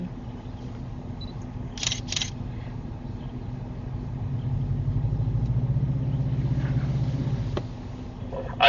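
An off-road vehicle's engine rumbles and revs in a mud hole on a backcountry byway, building to a sustained low growl midway with a couple of brief clicks, and no talk over it.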